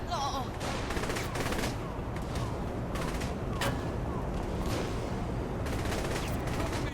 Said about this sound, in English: Shotgun. There we go.